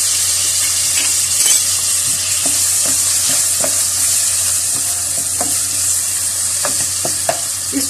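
Chopped tomato frying in a karahi with kabab masala, a loud, steady close sizzle with occasional stirring scrapes and taps over it.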